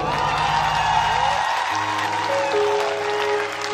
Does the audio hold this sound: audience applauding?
yes